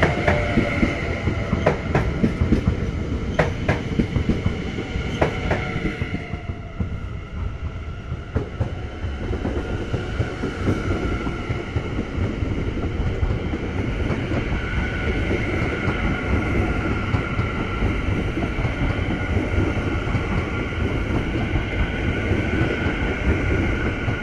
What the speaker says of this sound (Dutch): zoals jullie zien komt er alweer mooi een SNG aan